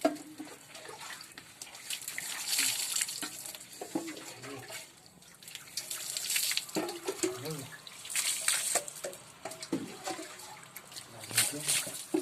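Water poured gently from a container during a home bath, trickling and splashing in uneven bursts, with people talking over it.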